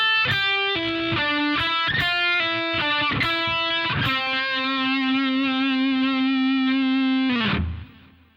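Distorted electric guitar plays a single-note lick with pull-offs, a quick run of notes ending on one long sustained tone before cutting off, played alone.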